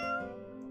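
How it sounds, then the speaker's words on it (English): A video game character gives one short meow at a lucky cat statue, a clear, near, tonal cat call that fades quickly. "If you meow at a lucky cat statue, happiness will come your way."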